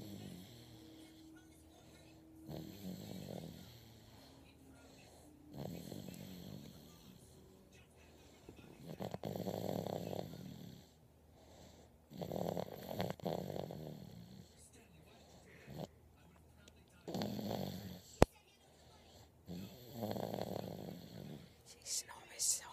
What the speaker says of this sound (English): She snores so hard